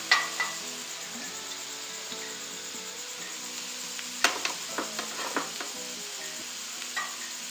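Kalmas, a Thalassery evening snack, fry in oil with a steady bubbling sizzle, then a few sharp clinks and scrapes as the pieces are lifted from the pan.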